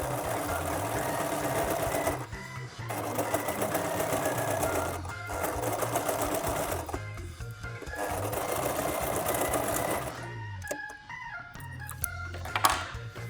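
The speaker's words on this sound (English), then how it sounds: "now I've top stitched my pockets in place" A sewing machine top-stitches pockets onto a Mary Quant-style minidress, running in steady whirring bursts of about two seconds separated by short pauses, then stopping into a few brief clicks near the end.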